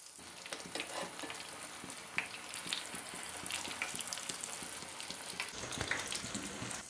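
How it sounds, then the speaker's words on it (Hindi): Potato kababs shallow-fry in oil in a pan, a soft, even crackling sizzle that runs steadily at low volume with scattered tiny pops. "हम दूसरी तरफ पलट कर फ्राई करेंगे"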